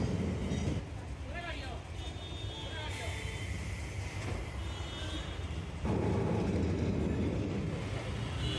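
A Kolkata tram rumbles steadily along its tracks with faint metallic squeals, a continuous city-street drone, with a voice speaking over it.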